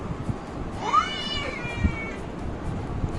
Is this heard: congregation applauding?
no